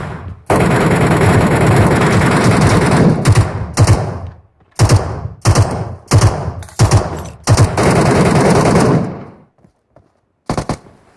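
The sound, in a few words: gunfire in video game MetroRoyale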